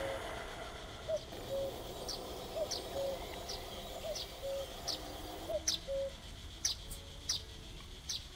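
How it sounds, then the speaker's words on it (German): A cuckoo calls in the Night of the Rabbit video game, a two-note cuckoo call repeated about five times at a steady pace over soft ambience, with faint higher chirps toward the end. "Wo ist der Kuckuck?"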